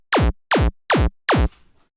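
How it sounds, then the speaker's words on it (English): Four synthesized kick drums from the Kick 2 plugin, each a punchy hit with a fast downward pitch sweep, evenly spaced and loud, the last one trailing off into a faint tail. "the sound that we're getting out of kick 2 sounds like this"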